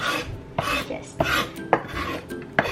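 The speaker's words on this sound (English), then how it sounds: "Just a rough mince of garlic." Knife roughly mincing garlic on a cutting board, a run of quick, irregular close chops and scraping taps.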